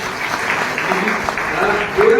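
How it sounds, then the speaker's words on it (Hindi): Loud applause fills a hall at an annual celebration for a new Prabhu Chintan Bhavan building at the Chopda service centre, a steady dense clatter of clapping with voices mixed in throughout. "तो उनके लिए आप जोरदार ताली बजा दीजिए।"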